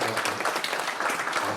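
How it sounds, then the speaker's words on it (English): Audience applause at a school band concert, a dense steady wash of many hands clapping at moderate level for the whole short stretch. "Let's give her a round of applause."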